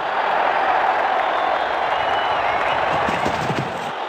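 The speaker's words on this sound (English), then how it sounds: "Crowd's gone mad." A stadium crowd in the WCC3 cricket video game roars in a steady, loud wash of cheering that lasts throughout.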